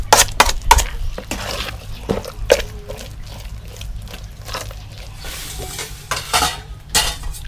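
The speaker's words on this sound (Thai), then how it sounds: "ก็คลุกให้เข้ากันครับสำหรับถั่วฝักยาวกับใบมะกรูดครับแล้วก็นวดต่อครับ" Fish paste being kneaded and mixed by hand with long beans and kaffir lime leaves, giving wet, squishy slaps and thuds in irregular bursts, close and fairly loud, with no talking.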